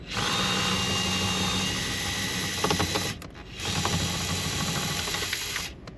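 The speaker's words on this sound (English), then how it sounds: "Like I said, a regular 8mm ratchet will do." A right-angle ratchet spins out an 8mm bolt during an Audi amplifier install, a loud continuous mechanical whir with a brief break before it resumes, no talking.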